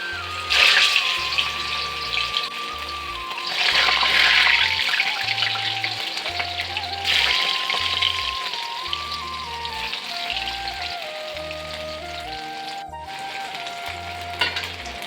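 Idhar, colocasia leaf rolls, sizzle and crackle in hot oil in a pan, a continuous close frying hiss with surges as pieces are stirred or turned, and no talking.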